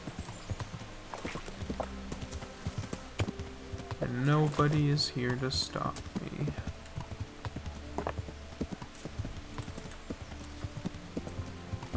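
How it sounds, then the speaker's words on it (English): Steady clip-clop of horse hooves trotting through a town in the video game Kingdom Come: Deliverance, a rhythmic patter throughout, with someone briefly speaking partway through. "I can ride my horse straight through the town."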